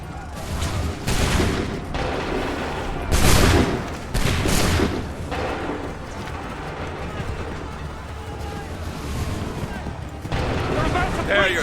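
Musket volleys ring out in Assassin's Creed 3 Remastered, several loud separate bursts of massed gunfire spaced across the scene, with shouted voices and battle noise between them.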